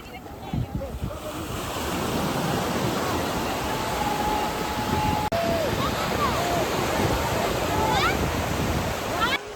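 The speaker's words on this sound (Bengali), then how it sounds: "আর সামনে তো সমুদ্র, ভালোই ঢেউ আছে।" Sea waves wash onto Bakkhali beach, where people are bathing: a loud, continuous roar of surf close by, with wind buffeting the microphone and faint voices in the background.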